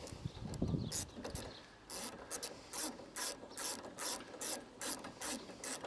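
A socket ratchet snugging bolts on an Allett Cambridge lawnmower, close and quiet, with a run of rapid clicking bursts in steady repeated strokes after a brief rustle at the start.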